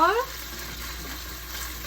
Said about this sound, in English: the sauce is actually heated up now. As you can see, it's sizzling around the edges.